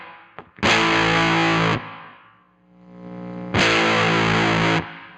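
A cranked electric guitar with single-coil pickups plays two sustained distorted chords, each ringing for about a second before cutting off, with a faint hum and noise in the pause between them.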